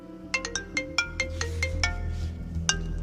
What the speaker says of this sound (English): On a scratchy phone line from behind bars, it's the accused calling, Daniel Holtzclaw.